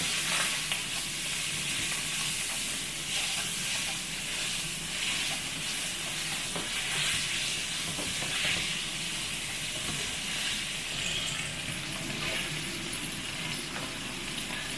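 Pork shreds seasoned with salt sizzle and hiss steadily in a hot wok after a splash of yellow wine, for home-style fish-fragrant pork; a loud, continuous frying crackle with stirring and no talking.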